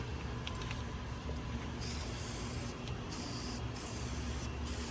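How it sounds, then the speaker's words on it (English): Continuous hissing spray from an aerosol cleaner can onto a 6.0 Powerstroke fuel injector terminal, with several short bursts starting and stopping, close by, over a steady low mechanical hum. "I just spray down the side of the terminal, hit the bottom of it."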